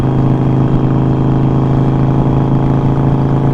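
A 2008 Harley motorcycle engine fitted with stage 3 cams runs steadily nearby, a loud, even, humming drone with a constant tone and no voices over it.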